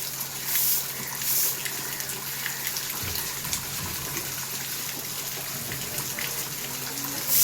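Two open taps running, a steady close-up gush and splash of water that continues throughout, with a few brief knocks and shifts in the flow and no clear voices.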